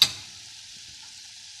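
A pot of water comes to a boil on the stove for a homemade pepper and cumin soup, giving a steady, even bubbling hiss with a brief louder onset, close and with no voices.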